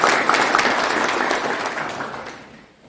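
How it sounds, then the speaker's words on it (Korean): Audience in a city hall conference room applauds the assembled guests at a citizens' debate, a brief burst of dense clapping that fades out within a few seconds. "오늘 이 자리에 함께하신 모든 분들이 내빈이니까 큰 박수하고 끝내겠습니다"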